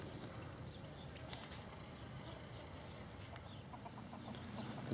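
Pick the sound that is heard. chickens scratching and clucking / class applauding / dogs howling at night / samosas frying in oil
chickens scratching and clucking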